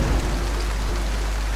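Steady rain pours down in a continuous, even hiss, close and fairly loud, with no voices or other sounds.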